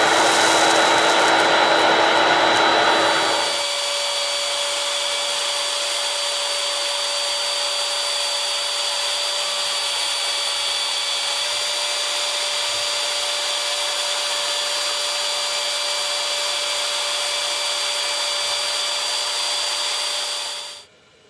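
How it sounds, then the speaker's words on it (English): Dust extraction vacuum at a CNC router spindle hood rises loud as debris is sucked up, then holds a steady whining hum for about twenty seconds before cutting off abruptly. "I checked the extraction by sliding a board with some debris under the hood"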